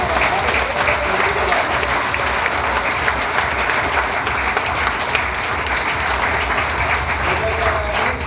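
Large audience applause at a lecture session, a continuous, loud and even roar of many hands clapping that fills the whole stretch without pause.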